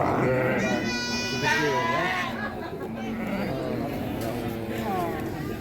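Sheep and goats bleating at an Indonesian livestock market ahead of Eid al-Adha, several wavering calls overlapping close by, with a reporter's voice running underneath and faint crowd and traffic noise.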